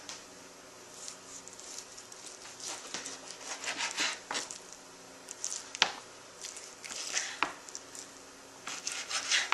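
Repeated knife strokes cut through deer ham on a board, with soft squishy slicing and occasional sharp taps, close and steady, no voices.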